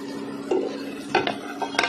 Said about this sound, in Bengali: বাটারটাকে একটু ঘুরিয়ে নেব